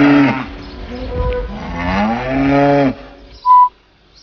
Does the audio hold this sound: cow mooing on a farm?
yes